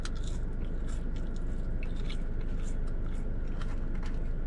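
Thin Steak 'n Shake fries get bitten and chewed right up close, a run of soft crunches and moist squishy chewing over a low background hum.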